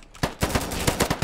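Rapid automatic gunfire from a free first-person shooter game, several sharp loud bursts in quick succession over a steady background roar.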